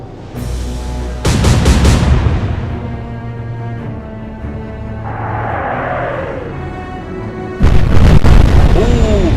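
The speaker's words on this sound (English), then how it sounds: "Massive explosion." Heavy booms from a naval battle in the Atlantic Fleet video game: a loud explosion bursts at the start, another follows a second later, and a third strikes near the end, each with a rumbling tail that lingers between blasts.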